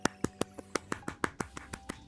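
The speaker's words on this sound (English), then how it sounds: "I'm clapping" A single person claps about a dozen times in a steady, even rhythm, each sharp, close hand clap standing out against a quiet room.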